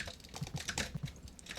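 Computer keyboard keys pressed during PC gameplay while sliding in a speedrun, a quick irregular series of soft clicks and taps, fairly close and moderately quiet, with no voice.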